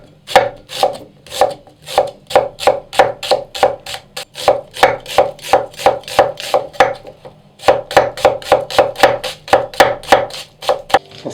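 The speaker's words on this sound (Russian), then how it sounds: "Лук будем полукольцами нарезать." A knife chops onion into half rings quickly and evenly on a cutting board, dozens of crisp rhythmic strokes with a brief pause midway, close and loud.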